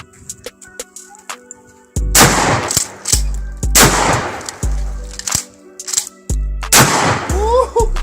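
A Winchester 1300 Defender pump shotgun fires several loud, sharp blasts, spaced a second or so apart, each with a booming echo and mechanical clanks of the action between shots.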